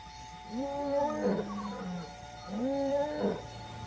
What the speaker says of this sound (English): Roars echo down the river.